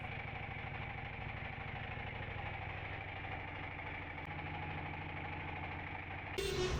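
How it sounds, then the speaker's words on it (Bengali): A boat motor runs steadily on the return trip across Mahamaya Lake near Sitakunda, a continuous close-up engine drone with a throbbing, slightly knocking rhythm and no talk, with a brief disturbance at the very end. "ফেরার সময় আমরা নৌকা দিয়ে ফিরলাম।"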